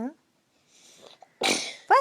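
A young child sneezes during a bedtime story at home, a short burst of breathy noise after a quiet pause, followed by another brief vocal sound.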